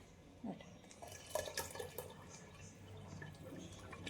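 Boiled water is poured into a pot of chole, a faint trickling splash with a few drips and clinks, quiet and close.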